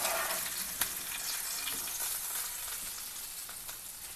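Pomfret (halwa) fish frying in a pan, giving a steady hiss of sizzling oil with small pops, close up and alone.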